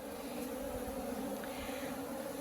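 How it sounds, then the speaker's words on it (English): Honey bees buzzing steadily as they are dumped from a cutout into a hive box, a dense continuous hum close by with no voices. "dump the bees out and try to find the queen"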